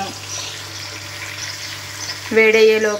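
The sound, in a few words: fish frying in a pan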